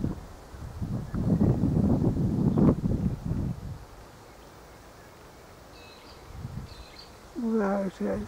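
Gusty outdoor wind buffets a microphone in a garden beside a red-leaved Photinia serratifolia shrub, low rumbling bursts strongest early on, then easing, with a person talking near the end.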